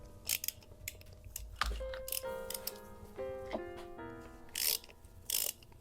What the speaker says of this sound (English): Now I'm gonna go ahead and break this nut loose.